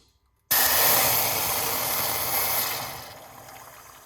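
Hot water pouring steadily into a pot on the stove for a bedtime clove drink, a broad close hissing splash that begins abruptly and tapers off toward the end, with no voices.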